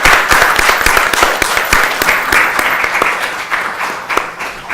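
Strong, close applause from a conference audience at an internet governance colloquium, sharp individual claps standing out in the dense clapping, which gradually thins toward the end.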